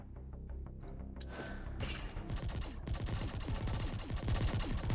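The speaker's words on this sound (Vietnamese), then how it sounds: "Cứ gọi súng ra thôi, bắn cho sướng." Rapid gunfire in the mecha zombie shooter game Zombie Wreck: Mecha Warfare, starting sparse and building into dense, continuous bursts of shots and impacts that grow louder toward the end, with no voice over it.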